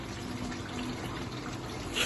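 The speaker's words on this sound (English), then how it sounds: "And now I'm going to add some of the pasta water." Steady rush of pasta water pouring into a hot pan of winter squash and leeks, a continuous close hiss that swells slightly at the end.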